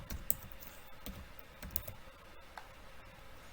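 Soft, quick keystrokes on a computer keyboard while entering a short link, with irregular light clicks and taps at close range in a quiet room.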